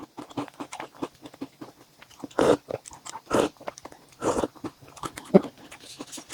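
Crunchy cereal with milk and banana being chewed close up, wet crunching bites in an irregular rhythm with a few louder crunches standing out, no talking.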